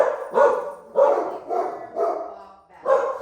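Puppies barking in a quick series of about six short, close yaps at an even rhythm, loud and alone without talk.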